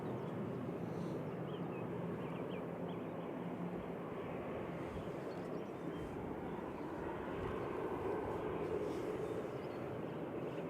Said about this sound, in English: that was KLM coming in from Amsterdam, Embraer E190 PHEZX, flight 1037 in the Sky Team livery